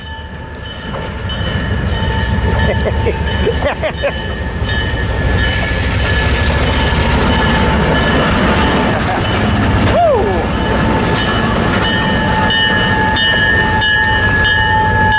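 A switcher locomotive at the Orange Empire Railway Museum in Perris, California rumbles close by, smoking, with a loud, steady mechanical roar, metallic wheel squeals and clanks, and a brief pitch-sliding squeal partway through; a voice speaks over it.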